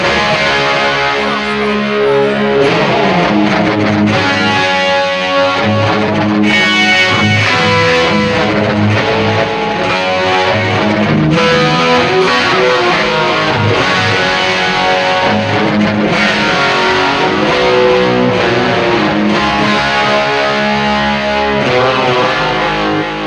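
A heavily distorted electric guitar through a BOSS eBand JS-10, set for a 1970s tone, plays loud, sustained chords and notes continuously, thick and gritty.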